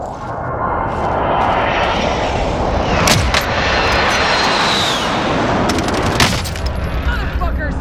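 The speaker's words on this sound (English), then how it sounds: "Precision airstrike inbound." Precision airstrike aircraft in Call of Duty Warzone roars loudly overhead, a dense engine drone mixed with bursts of gunfire and explosive cracks throughout.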